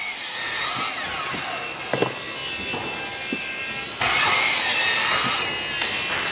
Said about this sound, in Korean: 칼바람 만큼 날카로운 톱밥 소리가 연신 새 나오는 곳